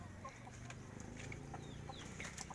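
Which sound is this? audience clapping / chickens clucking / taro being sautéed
chickens clucking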